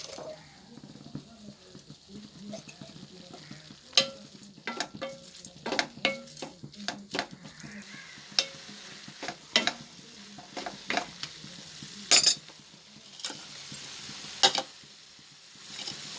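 Moringa leaves sauté quietly in a pan on a low flame, a faint sizzle under frequent irregular clinks and scrapes of a stirring spatula throughout.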